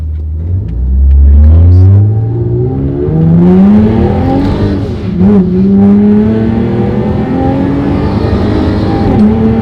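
A supercharged car engine revs hard and accelerates through first gear, a loud rising roar that climbs steeply, dips briefly around a lift-off and gear change, then pulls again strongly and close.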